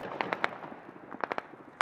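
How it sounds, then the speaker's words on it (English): Sharp distant cracks of Taliban celebratory gunfire in Afghanistan pop in scattered bursts, some in quick clusters, heard faintly across the open air. "the Taliban firing barrages of celebratory gunfire after the last aircraft departed"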